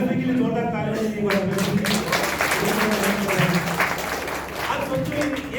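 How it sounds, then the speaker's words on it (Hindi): An audience at a leadership training session bursts into sustained, dense applause, with someone talking and shouting over the clapping throughout. "जोरदार तालियां"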